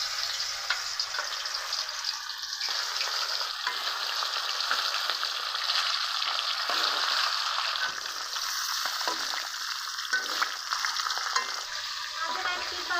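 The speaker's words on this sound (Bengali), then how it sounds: "তেল গরম হয়ে গেছে, এখন মাছ ভেজে নিব।" Sarputi fish, turmeric-coated, frying in hot oil in a wok, a steady continuous sizzle and crackle that stays loud throughout, with no talking.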